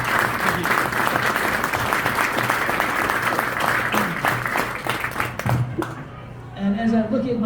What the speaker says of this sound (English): So if you could please give actually a round of applause for Andy